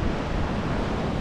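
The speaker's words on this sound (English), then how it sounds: "small swell, the wind's starting to pick up." Steady wind buffeting and low surf wash at an ocean shore near Sydney on a breezy morning with small swell, a continuous broadband rush with no voices.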